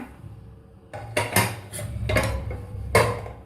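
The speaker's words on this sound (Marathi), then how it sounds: "आता आपण झाकण काढून बघूया." Metal clatters as the lid comes off a pressure cooker holding cooked mung dal: a few sharp clanks and scrapes in a quiet kitchen, close and moderately loud.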